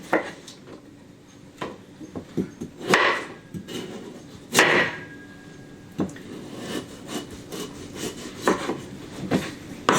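Vegetables peeled by hand for a holiday side dish, a series of scraping, rasping strokes of a peeler against the skin, close and uneven with soft knocks between them.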